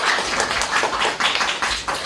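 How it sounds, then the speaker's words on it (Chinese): An audience at a Madame Tussauds wax figure unveiling for Huang Bo breaks into applause, a dense, close patter of clapping that rises and dips in waves over a couple of seconds. "这一定要掌声，此刻一定有掌声。"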